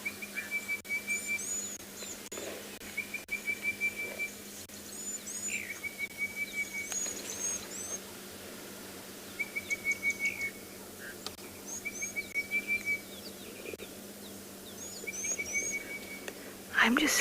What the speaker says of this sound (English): Can you hear the faint cheep, cheep, cheep, cheep, cheep? That's the blue waxbills.